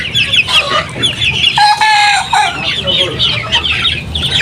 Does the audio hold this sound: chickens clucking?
yes